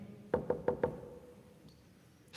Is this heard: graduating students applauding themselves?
no